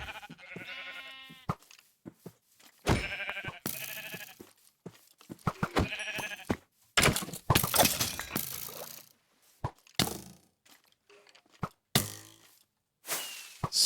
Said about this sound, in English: Bunch of sheep here.